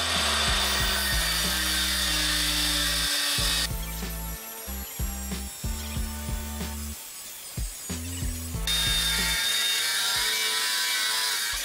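An angle grinder bites into a hardened steel Abus Extreme 59 U-lock, a loud continuous high-pitched grinding whine that steadies, dips into a rougher chattering stretch, then returns to a full screech.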